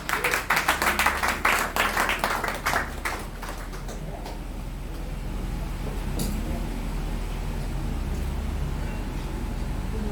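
Audience applause welcoming a speaker at a fashion business masterclass: a burst of clapping in the first few seconds that fades to a low murmur of room noise.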